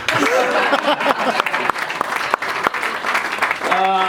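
Applause and clapping from a crowd at a hot tub gathering, a steady wash of hands with a few sharp separate claps standing out, fairly close and loud, with voices talking over it.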